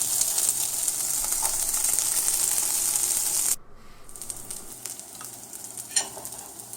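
Onions and beans frying in a pan, a steady loud sizzle that drops suddenly partway through, then resumes more quietly with stirring clicks and scrapes.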